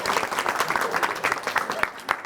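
A studio audience at a comedy game show breaks into dense, steady applause to welcome a contestant, with a voice talking over the clapping throughout.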